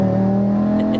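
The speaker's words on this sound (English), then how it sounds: "With the noise like this, this is how the 5-pot cylinder should sound." Audi RS3 8Y five-cylinder engine with a decat and no exhaust, revving in a steady loud drone with a strong low hum held throughout, close by.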